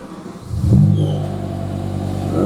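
A 2007 BMW M6 engine turning over at the ignition, catching into a loud, close rumble that settles into a steady, deep idle.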